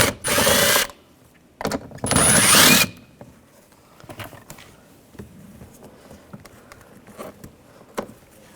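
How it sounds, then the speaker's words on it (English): Power tool with a 7mm socket spinning screws out of a 2014-2018 GMC Sierra 1500 side mirror: two short loud whirring bursts, then quiet clicks and handling noises. "Using a 7mm socket, take these two screws out"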